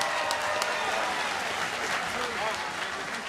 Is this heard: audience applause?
yes